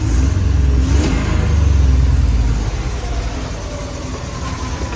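A 1988 Suzuki Samurai with a swapped V6 engine revs hard and loud up close, holding high for a couple of seconds, then dropping back to a rougher, lower idle.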